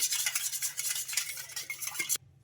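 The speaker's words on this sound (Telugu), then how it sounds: "ఇంకా ఈస్ట్ కూడా వేసుకొని ఒకసారి మొత్తం ఇలా బాగా కలిపేసుకోవాలి." A spoon stirs batter with yeast in a bowl, making a continuous wet, scraping swish with rhythmic strokes close by before it stops abruptly.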